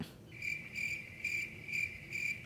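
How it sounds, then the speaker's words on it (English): Crickets chirp in steady, evenly spaced bursts, about five pulsing trills in a row, fairly soft against a quiet background with no talking. "Enter cricket sounds."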